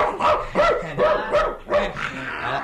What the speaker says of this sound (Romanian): Isi, Tamerlan, isi. Prieten, câine